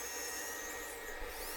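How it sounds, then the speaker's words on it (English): Sandpaper rubs a large square wooden bowl spinning on a lathe, giving a steady dense hiss with a continuous motor hum, close and even for a short stretch. "I can do most of it with the piece rotating, but I will have to do some stationary sanding on those outer wings."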